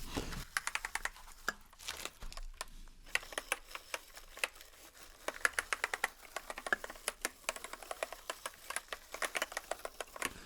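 Clicky computer keyboard keys pressed in quick irregular bursts, close and crisp, with short pauses between runs of sharp taps and no talking.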